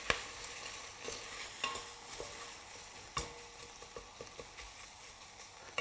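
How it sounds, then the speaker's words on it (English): Chopped white and red onions frying in olive oil, stirred in a pan, giving a soft, steady sizzle broken by intermittent scraping clicks of the utensil. "We're going to give that a stir."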